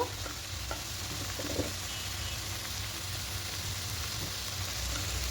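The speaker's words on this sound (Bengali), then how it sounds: "এবার দিয়ে খুব ভালো করে আবার একটু কষিয়ে নেব আঁচটাকে দিয়ে রেখেছি" Chicken frying without oil in a pan with salt and turmeric, stirred, giving a steady close sizzle with occasional scraping stir sounds throughout.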